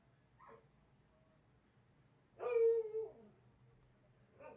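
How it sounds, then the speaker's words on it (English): Dogs whimper and yip close by in a quiet room: a short whine early, a long rising-and-falling whimpering cry in the middle, then another brief yip at the end. "Oh my Lord, these dogs."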